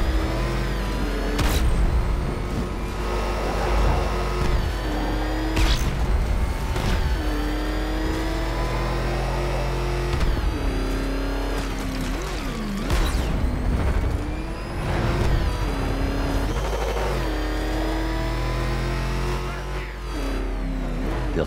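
Batmobile from the video game Batman: Arkham Knight, its engine droning loudly and steadily throughout, with pitch rising and falling as it accelerates and revs, set against a busy game soundscape.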